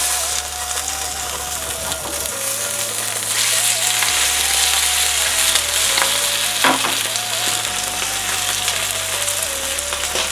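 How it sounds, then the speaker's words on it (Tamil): A fish omelette fries in a pan with a steady, dense sizzle throughout. The sizzle runs under background music, with a brief clatter partway through. "ஸோ நம்மளுக்கு வேண்டிய அளவுக்கு நல்லா ஃப்ரை ஆகிருக்கு."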